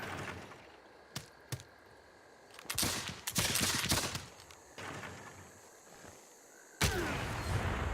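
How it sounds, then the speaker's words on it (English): Gunfire in the strategy game Civilization VI, Nubia campaign: sharp isolated shots followed by bursts of rapid crackling fire, loud and close, with pauses between volleys. "The crackle of gunfire."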